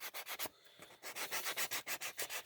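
A 220 grit sanding block rubs quickly back and forth on a key fob piece in a loud, rhythmic run of strokes, with one short pause partway through.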